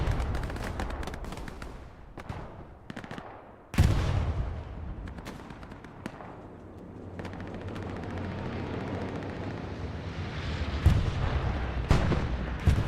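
Tank cannon fire and heavy gunfire from the Hell Let Loose video game at Saint Mere Eglise boom and crack, with one loud blast standing out and rumbling battle noise and distant shots continuing behind it, with no talking.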